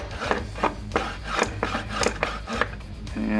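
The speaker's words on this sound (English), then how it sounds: "start sawing back and forth a little bit." A small hand saw rasps back and forth through a groove in a miniature Battletech mech part, roughly eight quick, even strokes close by, with no voices.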